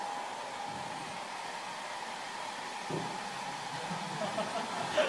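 A hair dryer blows steadily indoors, heating a room during a live tech demonstration; a continuous, fairly faint whooshing hiss runs unbroken throughout, with faint murmuring underneath.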